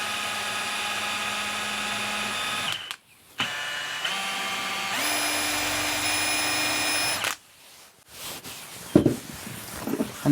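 A power drill bores 5mm holes in oak-faced MDF in three sustained high-pitched bursts with short pauses between, its whine shifting in pitch as it bites, then some handling noise.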